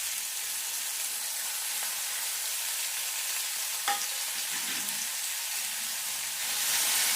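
Bottle gourd peel and cumin seeds fry in oil with a soft, steady hiss like light rain, one sharp tap midway and the sizzle swelling slightly near the end; nobody talks.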